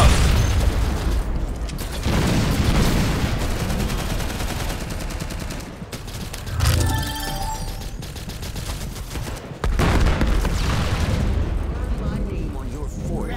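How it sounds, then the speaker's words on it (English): Video game battle with a grenade blast amid gunfire: dense rattling bursts of shots, a deep thump of the explosion midway, then renewed heavy firing, loud and continuous with game voices mixed in. "Grenade out!"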